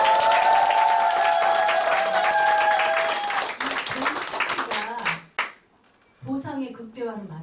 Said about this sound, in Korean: 감사의 뜻으로 큰 박수 주십시오.